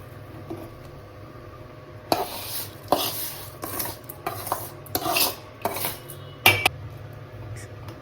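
A spoon scrapes and clatters against a pan as semiya vermicelli and sago are stirred together, in a series of short, sharp bursts after a quiet start.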